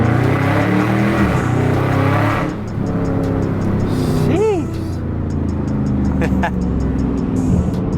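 A Dodge Charger Scat Pack engine roars under acceleration, then drops sharply at a gear change before pulling again, loud and close, with someone talking over it.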